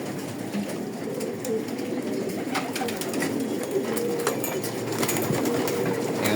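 Pigeons coo in a loft where males and females are kept together, a soft continuous murmur with scattered flutters and clicks, fairly close and steady.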